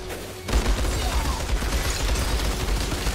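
Weapon fire in the video game Outriders: after a brief quiet start, a dense, continuous burst of loud rapid shots and impacts rattles on for several seconds with no pauses.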